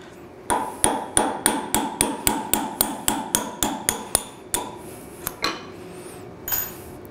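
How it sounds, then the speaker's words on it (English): A hammer striking a punch to drive out a roll pin from a drill chuck held in a vise, about a dozen sharp metallic blows in a steady rhythm, then a few slower ringing taps, close and loud with no talk. "What we're going to do is we're going to punch out the roll pin."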